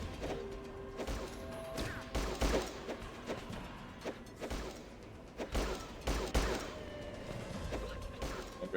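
Gunfire and impacts in Fallout Tactics come as scattered sharp cracks and thuds spread across the stretch, irregular and moderately loud over a low background of game ambience.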